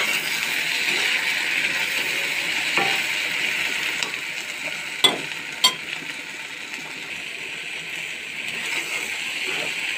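Bitter gourd, shrimp and green chillies frying in turmeric-coated oil in a pan give a steady, close sizzle that runs throughout, broken by a few sharp clinks from a stirring utensil.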